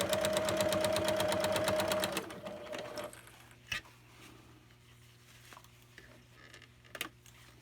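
Sewing machine stitching a waistband with belt loops, a rapid rhythmic clatter for about two seconds up close, then stopping, followed by faint handling clicks and soft rustles.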